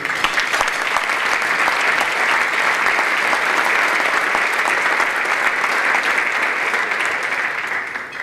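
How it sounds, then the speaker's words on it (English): Loud, sustained audience applause at a real estate hall of fame induction ceremony, a thick continuous roar of many hands clapping that holds steady and tapers slightly at the end. "So I'd like to just give a quick round of applause for these people."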